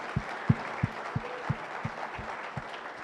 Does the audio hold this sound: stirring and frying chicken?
no